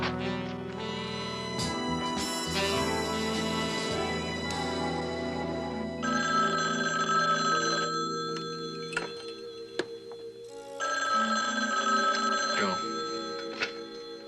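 A telephone bell rings in a 1978 crime drama scene, its repeated ringing bursts set against a swelling musical score, with one brief spoken word.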